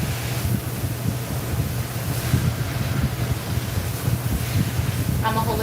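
Running water rushes steadily while it is adjusted during a hair appointment, a loud continuous broadband hiss with a low hum beneath and brief clinks near the end.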